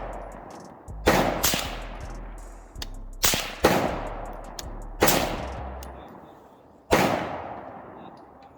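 Gunshots fired with CCI ammunition at an outdoor shooting session, six loud sharp reports spaced irregularly, each followed by a ringing decay, close by with no talking.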